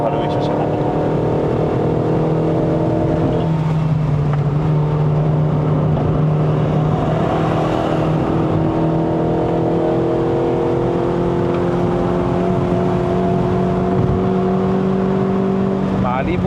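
Toyota Vios 1.5J NCP150 with a four-speed automatic climbing the mountain road up to Genting in Malaysia, its small engine droning steadily with rising tones as it pulls uphill, loud and continuous from inside the cabin, with a voice talking over it.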